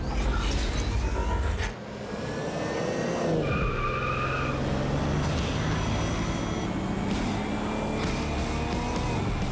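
A car in Watch Dogs Legion revs and drives, then its tires squeal in a long skid over a steady engine drone, with a brief crash-like burst at the start.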